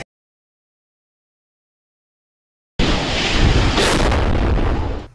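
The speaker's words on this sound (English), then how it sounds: "A catastrophic explosion shaking the grounds, our cameras, and the lives of two families" After several seconds of silence, a loud, sudden blast erupts into a roaring, crackling rush of noise that holds for a few seconds.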